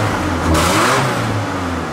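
A Ford Raptor truck engine keeps running just after a restart: a steady, close mechanical idle that swells briefly into a rev midway, then settles back to a low drone.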